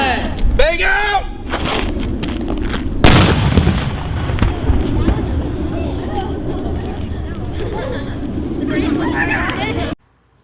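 A police flashbang is thrown and set off during a courtroom demonstration at a murder trial: one sharp, loud bang rises out of steady voices and room noise, with people talking before and after it.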